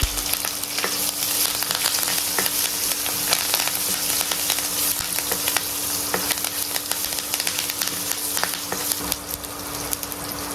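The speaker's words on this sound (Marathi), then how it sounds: "त्यात आता हिंग घालूया हिरव्या मिरच्या घालूया व कढीपत्ता घालूया" Asafoetida, green chillies and curry leaves hitting hot tempering oil for Maharashtrian tomato saar, a loud, close, continuous crackling sizzle with dense sharp pops and spatters throughout.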